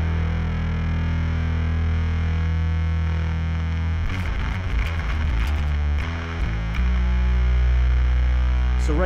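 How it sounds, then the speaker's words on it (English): Bass guitar run through a Darkglass ADAM pedal with distortion and gain turned up to a fuzz-like level: a thick, loud, sustained drone, then a burst of gritty notes in the middle before settling back into a held roar. "we're pretty much sitting at a fuzz pedal level of distortion at that point"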